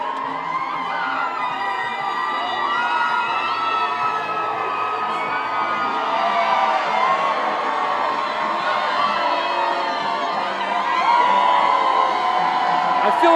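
A packed crowd on Ocean Drive at a beach party fundraiser cheers and whoops continuously, with shrill shouts and high voices layered over a steady roar of chatter.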